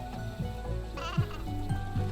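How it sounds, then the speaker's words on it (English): Sheep bleating in a cozy video game about magical animals: several short bleats in a row over soft game music, fairly close, with no talking. "Is this my sheep? You found a lost sheep."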